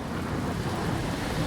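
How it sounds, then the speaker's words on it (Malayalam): Heavy rain pours down in a cartoon scene as a steady, dense wash of noise with low rumbling beneath, continuous and even throughout with no voices. "കണ്ടില്ലേ പത്തലു, മഴ നന്നായി പെയ്യുന്നുണ്ട്."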